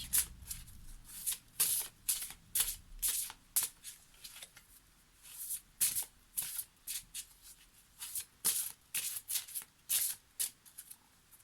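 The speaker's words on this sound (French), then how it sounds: "on prend une carte issue des ailes de la sagesse" Oracle cards from a wisdom-themed deck are shuffled by hand, giving a rapid series of crisp riffling bursts, close and clear, with brief pauses between shuffles.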